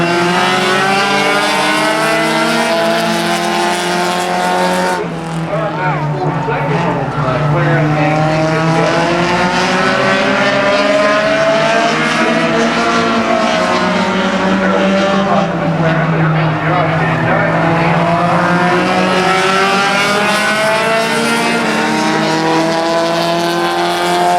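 Race cars roar around Salem Speedway in a continuous, loud engine drone with rising and falling pitch as the pack passes, while an announcer talks over the racing throughout.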